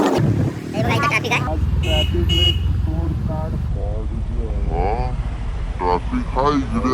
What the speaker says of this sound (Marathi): हे बघा इथं ट्रॅफिक आहे